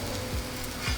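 Meat searing in a hot pan gives a steady, close, dense sizzle and crackle for the whole second, with faint low scraping pulses and no talk.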